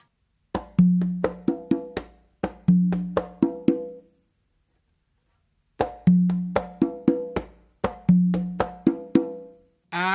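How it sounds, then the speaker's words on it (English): A conga tumbao rings out alone and close with bass tones, finger slaps and open tones played in quick rhythmic bursts, with two phrases separated by a pause of about two seconds. "what you're going to do is another bass and another like finger slap with your left hand, and then you're going to do 2 opens with your right again"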